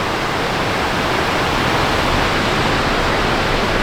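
Steady, broadband rushing of a river flowing beside a snowy off-road trail, continuous and even throughout with no voices over it.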